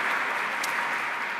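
An audience at a conference dialogue event applauds with steady, dense clapping that holds at an even level throughout the brief burst.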